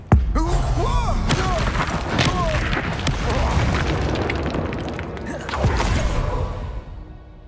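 A Confringo blasting spell goes off in Hogwarts Legacy, a loud booming explosion that opens the clip and rumbles on through continuous battle noise, with a second strong burst near the end before fading.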